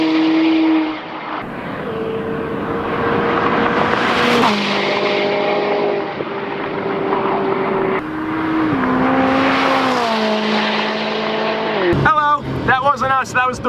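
A McLaren 570 supercar in track mode revs hard through several rising and falling engine pulls, loud and close, ending in a burst of sharp crackles and pops; a voice is also heard.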